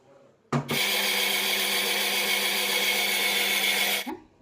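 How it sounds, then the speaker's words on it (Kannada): A kitchen mixer grinder whirs steadily for about three and a half seconds, grinding chutney with cumin and salt, starting and stopping abruptly, loud and close with no talk. "ಇದನ್ನ ಇವಾಗ ಮಿಕ್ಸಿಗೆ ಹಾಕೊಳ್ಳೋಣ"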